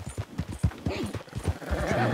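Horse hooves clip-clop in a steady rhythm in Red Dead Redemption 2 gameplay, with a short whinny near the end, all close and fairly loud; a voice speaks softly over it.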